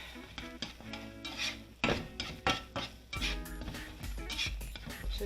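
A spatula scrapes and clatters against a pan while eggs are folded over for a cheesesteak and egg bagel, with irregular metallic clinks and knocks over a faint background sizzle.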